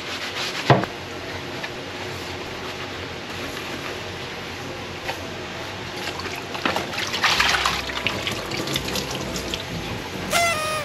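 Dishes being washed under a running kitchen tap in a home in Japan, a thin steady stream of water with occasional clinks and clatters of utensils, rising into louder splashing and scrubbing near the end, with no talk.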